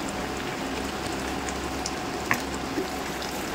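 Curry with jackfruit and peas simmers gently after a little ghee is added, a soft, steady bubbling and sizzling with a few faint pops over a low hum.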